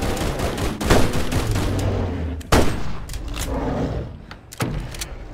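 Shots fired at Bigfoot in the Bigfoot video game: a few sharp, loud gun blasts spaced a second or two apart over a constant rumbling background, with no talking.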